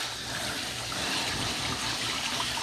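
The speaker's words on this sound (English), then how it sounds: "I'm gonna give it a little bit of a wash and a rinse" Running tap water pours steadily over a pasta strainer being rinsed, a continuous close splashing hiss with faint metallic clinks and no talking.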